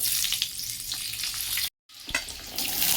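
Five-spice seeds and green chilies hit hot oil with a bright, steady crackling sizzle, broken by a brief silent gap before the spitting and popping resume.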